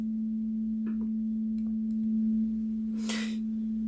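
A steady pure sine tone from a phone's tone generator holds one unbroken pitch throughout, with a few faint clicks and a brief hiss of handling noise near the end.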